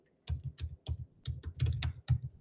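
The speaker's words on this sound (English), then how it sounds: "So I'm typing that in the chat." Typing on a computer keyboard, a quick run of close, crisp key clicks arriving in short irregular bursts with brief pauses between them, heard alone without any talking.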